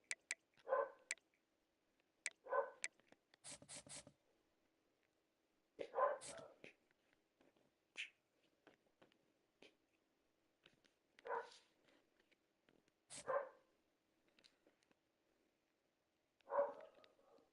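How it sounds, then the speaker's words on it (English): Dogs indoors bark in short, scattered bursts of one or two barks with quiet gaps between them, moderately close and fairly faint. "Sorry about my dogs, chap."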